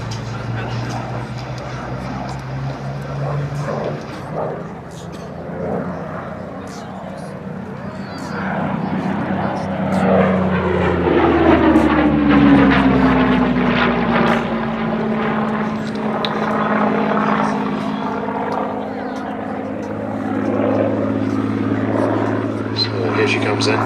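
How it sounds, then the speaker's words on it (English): A Piper Cub light aircraft passes overhead at an airshow, its propeller engine drone swelling and shifting pitch as it comes near, loud and steady, with crowd noise and voices underneath. "the idea is that the Cub will fly over"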